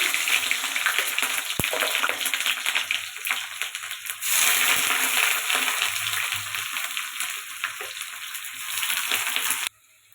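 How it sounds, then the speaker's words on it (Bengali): Chopped onion frying in very hot oil in a kadai with cumin, whole spices and bay leaf, a loud continuous sizzle with a burst after stirring, ending abruptly. "পেঁয়াজটা একটু হলুদ আর লবণ দিয়ে ভেজে নিলাম।"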